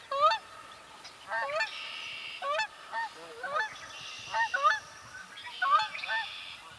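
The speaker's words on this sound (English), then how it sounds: "We got the honking of the Canada goose." Canada goose honking in a marsh, a series of loud two-note honks repeated at irregular intervals, close and alone with no talk.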